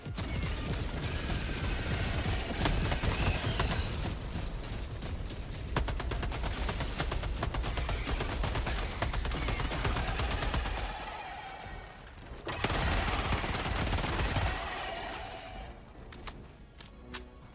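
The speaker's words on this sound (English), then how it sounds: "Firing orbital barrage." Orbital barrage strike in Helldivers, played solo: a dense, sustained roll of rapid explosive impacts and gunfire-like cracks runs for about eleven seconds, breaks off briefly, then surges again in a shorter burst before fading.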